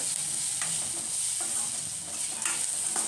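Vegetables fry in an oil tempering with a steady, moderate sizzle and a few soft stirring scrapes, heard close up and without speech.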